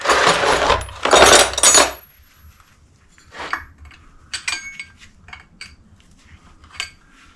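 A wrench works on the carburetor of a 1935 Austin 7: a loud burst of rough scraping noise opens, then close, scattered metallic clinks and taps follow with pauses between them.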